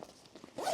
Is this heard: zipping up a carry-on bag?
yes